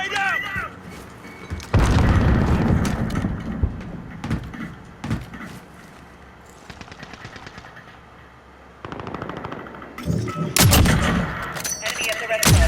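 Rapid automatic gunfire and heavy blasts in the video game Call of Duty: Modern Warfare, loud bursts that come and go with short lulls, while game voices call out over the shooting.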